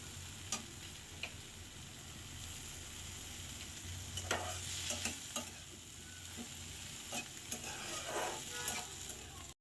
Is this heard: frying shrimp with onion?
yes